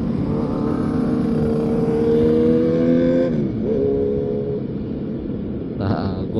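Big motorcycles rev their exhausts on a Jakarta Sunday morning ride, engines rising and falling in pitch under a rider's voice, with a short burst of wind near the end.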